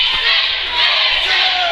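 A wrestling arena crowd roars and cheers in a loud, dense wall of voices that holds steady for the whole short stretch.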